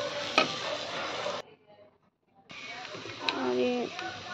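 Veg biryani masala being stirred in a pan with a spoon, sizzling and scraping close by, stopping for a brief near-silent gap before the stirring resumes.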